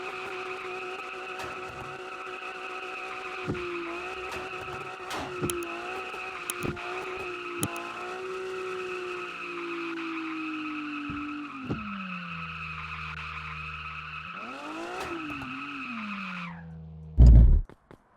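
A car skids with a long, sustained tire squeal, its pitch wavering and dropping as it goes on, ending in a loud burst and then quiet.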